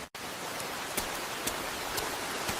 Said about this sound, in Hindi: अच्छी बारिश हो रही है